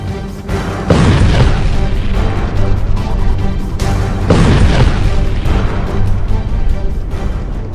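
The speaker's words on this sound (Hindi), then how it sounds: "शांत पड़े इलाके में अचानक से एक बड़ा धमाका होता है" Two deep, booming explosions in an Israel–Hamas war zone, one near the start and another midway, each followed by a long rumbling roar that fills the rest of the clip.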